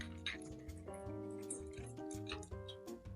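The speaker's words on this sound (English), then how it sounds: "Once our ice is added, then we stir until the ice has melted a bit and until the drink is well mixed." Ice clinks and ticks against a glass as an Old Fashioned cocktail is stirred, a close, quiet run of small taps and rattles with liquid swirling beneath.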